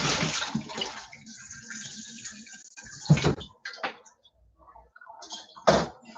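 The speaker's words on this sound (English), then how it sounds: "Let me wash my hands or bring the cold water here." Water splashes and runs in short bursts as hands are washed, with a couple of sharp knocks, a quiet gap, then one more splash.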